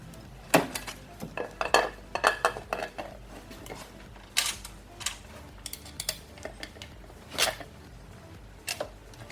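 Metal parts clink and tap intermittently, light knocks and rattles of tools and components as an intake manifold with a thermal spacer is fitted onto a VAG 1.8 turbo engine, up close.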